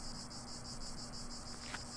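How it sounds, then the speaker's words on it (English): Crickets chirp in a video game, a quiet, steady pulsing trill repeating evenly over a low ambient hum, with no voices. "I like the crickets. The cricket sound."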